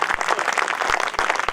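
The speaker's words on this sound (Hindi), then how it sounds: "ये जो छुटपुट तालियां आप बजा रहे हो" Scattered applause from the audience at a Hindi comic poetry gathering (hasya kavi sammelan), a loose patter of claps with a few sharper, louder slaps standing out, with no voices.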